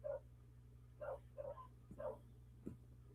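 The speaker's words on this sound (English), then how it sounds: "quit barking at him" Dogs bark indoors, four or five short sharp barks spaced about half a second apart, fairly faint and alone over a low steady hum.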